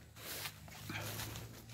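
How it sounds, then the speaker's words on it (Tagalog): A dog barks and yips on a mountainside with a cat nearby, the sounds fairly faint and mixed with outdoor background noise and a low steady hum throughout. "Ang ingay ng aso guys."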